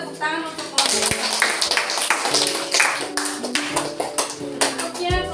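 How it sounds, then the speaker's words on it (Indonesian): A group claps in a classroom setting, with quick overlapping hand claps spread across several seconds while voices talk over the applause. "Berikan tepuk tangan untuk kelompok 2."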